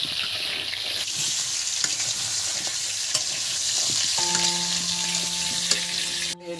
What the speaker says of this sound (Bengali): এদিকে আলুটা ভাজা হচ্ছে।